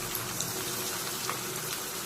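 Steady bubbling and simmering of broth in a pot, a continuous soft hiss with faint pops, no voices.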